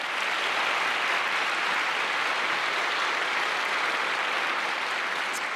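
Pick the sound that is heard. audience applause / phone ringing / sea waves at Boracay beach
audience applause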